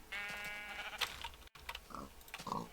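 A pig in the Infdev version of Minecraft cries out after being hit, a few short, nasal, bleating squeals close up against quiet game background sound.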